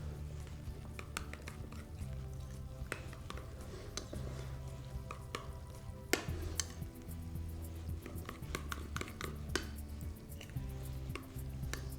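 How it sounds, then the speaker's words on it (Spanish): A spoon stirs a mixture with lemon in a bowl, steady scraping and clinking strokes, fairly quiet, over a low background hum. "Removemos bien."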